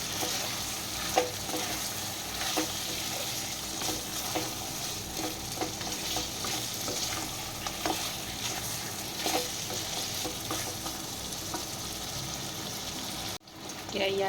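Spiced mutton mixed with yogurt fries in a pan, a steady close sizzle with repeated scraping stirs throughout and a brief dip near the end.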